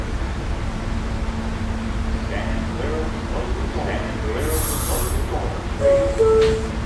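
An R160A subway train in a Roblox game rumbles along steadily in the background while an automated announcement voice speaks over it, with a brief high chime near the end.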